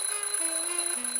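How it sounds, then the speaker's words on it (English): A smoke detector alarm in the adventure game The Journey Down Chapter Two sounds as a steady, piercing electronic tone with a slight wavering, loud and continuous without voices. "I'm, just testing the smoke detector."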